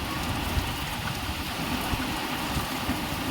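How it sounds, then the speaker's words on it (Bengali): Rain falls steadily at night as a dense, even patter on outdoor surfaces, with a faint low rumble underneath and no voices. "এখানে দেখো বৃষ্টি হচ্ছে"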